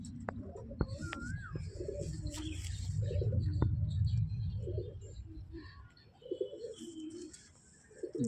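Giribaz pigeons in a home loft coo in low, throaty, rolling bursts, repeated close by, with a few sharper chirps and flutters mixed in around them.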